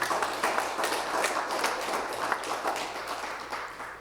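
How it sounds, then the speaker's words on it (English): Steady applause from an audience at a Walk for Life mental health event, many hands clapping continuously for several seconds at moderate distance. "Just a big round of applause for yourselves, all right?"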